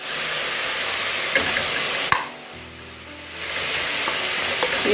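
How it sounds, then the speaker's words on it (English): Macaroni bolognese sauce sizzles in a pan, a loud steady hiss with a few clinks and a sharp knock as it is stirred, then the sizzle briefly drops away before building back up. "stir it and let it start cooking"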